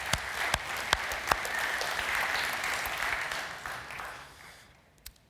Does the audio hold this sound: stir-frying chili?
no